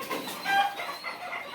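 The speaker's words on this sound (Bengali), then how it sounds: "দেখতেই পাচ্ছেন এখানে প্রায় 300-400 পিস কুইলের বাচ্চা আছে।" Several hundred Japanese quail chicks gathered together give a dense chorus of soft, high peeping and chirping, continuous and fairly quiet, close by.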